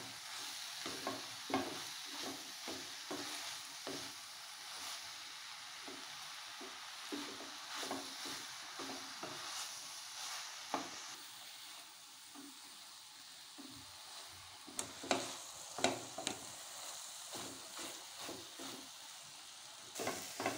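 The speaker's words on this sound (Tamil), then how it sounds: "மீல் மேக்கரை கொட்டி நல்லா வதக்கலாமுங்க." Soya chunks (meal maker) stirred and sautéed in masala in a pan, with a steady soft sizzle and repeated scraping strokes of the spoon, close and fairly quiet throughout.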